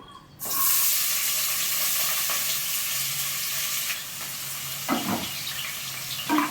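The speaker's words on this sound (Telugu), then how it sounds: "అదే ఆయిల్లోనే ఉల్లిపాయలు పచ్చిమిరపకాయలు వేసేసుకుందాం" Onions and green chillies frying in hot oil in a pan while cooking an egg gongura dish, a steady broadband sizzle starting abruptly and holding close and loud, with a few light clicks of stirring near the end.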